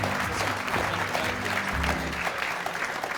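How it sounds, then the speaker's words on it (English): An audience at a Creative Assembly game jam applauds steadily, a dense wash of clapping that keeps going throughout, with a faint low hum beneath it. "Another round of applause."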